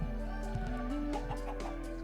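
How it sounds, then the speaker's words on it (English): Chickens in the Minecraft video game cluck in a quick, busy series of short squawks and clucks that overlap one another at close range. There is no speech over them. "my chickens are going crazy"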